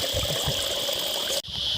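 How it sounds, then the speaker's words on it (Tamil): A small waterfall with little flow trickles and splashes down rocks in a continuous close wash, broken by a brief cut just before the end. "கீழே போகுதுங்க தண்ணி."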